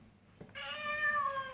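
Recorded cat meow from a children's sound book of animals, a single drawn-out electronic meow lasting about a second, loud and close, preceded by a soft click of the page being pressed.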